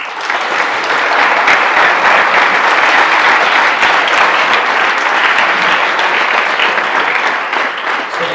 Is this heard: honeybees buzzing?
no